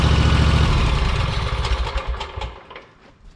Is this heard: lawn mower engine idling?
yes